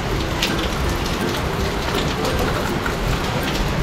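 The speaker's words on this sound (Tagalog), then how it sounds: "Lakas ng ulan, lakas ng hangin." Heavy rain with strong wind, a dense steady roar of downpour and gusts filling the whole stretch without any talk.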